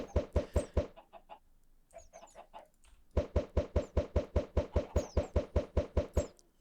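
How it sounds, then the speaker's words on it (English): Chickens in a crowded Minecraft chicken farm making rapid, evenly spaced clucks in a steady rhythmic series, with a short scattered stretch before the regular run resumes, close and moderately loud with no talking. "Dude, we have so many fucking chickens in here now. They're so annoying."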